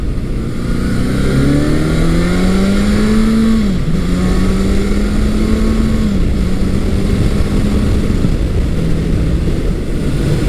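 A vintage motorcycle, a Kawasaki KZ1000 or Honda CB750, roars loudly under hard acceleration, its engine note climbing through the revs with short dips at gear changes before it settles into a sustained high-pitched drone.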